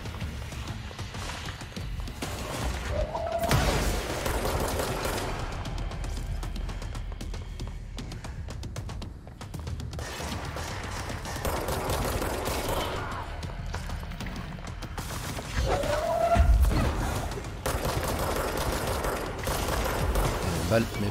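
The player's gun firing in the game Control: bursts of rapid shots in several long volleys, loud and close, over low ambient game sound, with quieter gaps between the volleys.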